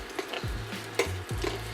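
Bacon rendering in a pan, a soft steady sizzle with a few light scrapes and taps of a utensil against the pan, fairly quiet.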